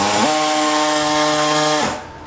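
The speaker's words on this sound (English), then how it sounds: "I'm just cutting them out so that I can put some brake vents, some airflow to the brakes" A power tool cuts out body panels on a Honda S2000 track car to make brake vents, giving a loud, steady high buzz for about two seconds that then cuts off and winds down.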